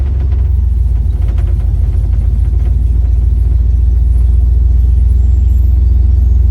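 Steady low road rumble from a truck in motion, with a loud continuous hum and a faint rhythmic wheel noise running under it, close and unbroken throughout.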